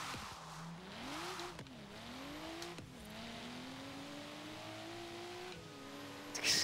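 A car engine in the racing game Forza Horizon 3 drones steadily as the car drives uphill, pitch rising and falling through gear changes, with a brief loud burst at the end.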